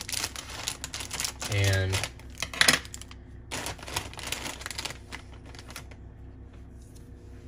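Scissors snip and crinkle through a cereal packet, likely Cinnamon Toast Crunch Rolls, in a short burst of crackly cutting and rustling. A person talks over it throughout.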